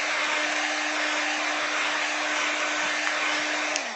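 A hair dryer blows steadily and close by, drying wet gesso on an art journal page, with a constant whooshing roar and a steady hum that winds down briefly at the very end.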